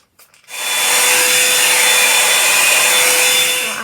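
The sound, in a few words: hair blow dryer running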